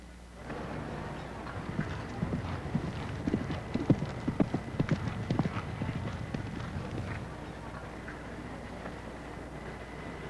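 Horse hooves clip-clopping steadily on a cross-country eventing course at the 1978 World Eventing Championships in Lexington, Kentucky, ridden cautiously by Ralph on Sergeant Gilbert; rhythmic strides, close and clear, with faint crowd murmur underneath.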